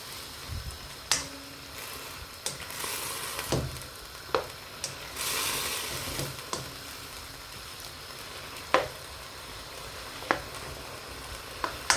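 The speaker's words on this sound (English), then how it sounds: "let me get my spoon and just mix my meat" A spoon stirs diced beef in a non-stick pan, producing sharp clicks and scrapes at irregular intervals over a soft, steady sizzle, close and moderately quiet.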